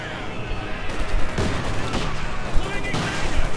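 A Company of Heroes 2 battle rattles with dense machine gun and rifle fire, a steady crackling fusillade with sharper shots throughout. A commentator talks over it.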